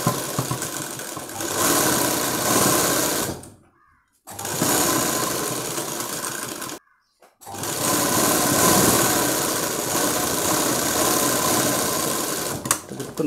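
A sewing machine stitches satin onto a frock in a tailor's shop, running in loud, rapid continuous bursts broken by two short pauses, close and alone without talk.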